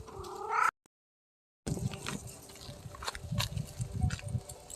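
A kitty meows once loudly and close in a drawn-out cry, followed by a short silence and then scuffling and faint movement noises.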